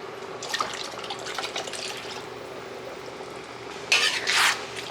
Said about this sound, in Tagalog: Kakalugan ko ng konting tubig kasi meron siyang mga naiwan sa ilalim.